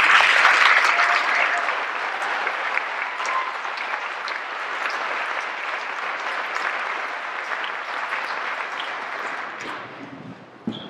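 An audience at a Kent State KSUA student ceremony applauds as speaker Greg Oliver comes to the podium, a loud, sustained burst of clapping that starts strongest and slowly tapers before fading out.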